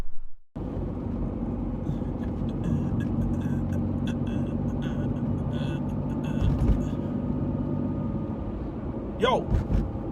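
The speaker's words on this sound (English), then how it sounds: "I'm just going to put the wheels back on and take it for a quick drive back and forth" A BMW E46 fitted with a budget big brake upgrade drives on a test run, its engine and road noise a steady low rumble from inside the car, with a brief louder whine near the end.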